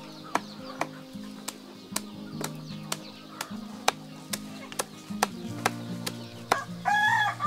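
Free-range sentul chickens, a native breed from Ciamis, kept in a garden setting, with a rooster crowing near the end over steady clucking and short sharp calls throughout, at moderate level.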